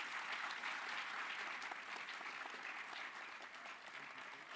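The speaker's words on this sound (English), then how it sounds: "That's your applause." An audience at the end of a World Economic Forum panel in Davos applauds steadily, a continuous wash of many hands clapping in a large hall that fades slightly toward the end.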